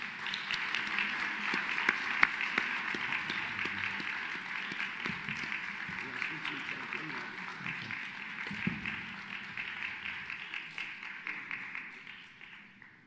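Sustained audience applause at a national voice competition, a dense steady wash of many hands clapping that carries on for about thirteen seconds before easing slightly at the end.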